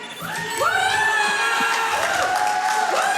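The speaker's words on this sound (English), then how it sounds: "Why are they all cheering?" A live crowd at a Summer Games Done Quick speedrun marathon cheers and whoops during a Sonic the Hedgehog 3 & Knuckles run, a dense, sustained roar of many voices with rising shouts throughout.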